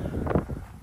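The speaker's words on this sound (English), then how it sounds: "Sorry about the wind" Wind buffeting the microphone in low, rumbling gusts at an outdoor RC raceway, close and fairly steady throughout.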